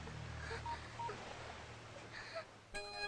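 Telephone keypad tones as someone dials a phone to call the police, a few short separate tone bursts spaced irregularly, fairly quiet, then a brief louder tone at the end.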